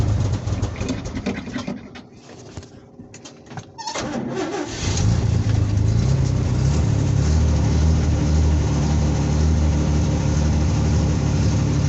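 A 1979 Chevy with about 149,000 miles, heard from cold: a few seconds of quieter rattling, then the engine catches into a loud, steady, rumbling idle that continues close by to the end.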